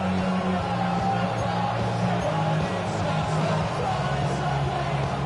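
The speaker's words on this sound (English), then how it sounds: "The noise very loud from the crowd." A loud crowd roars in an NFL stadium late in a Bills versus Bengals game, a dense, steady wall of fan noise that carries on without a break.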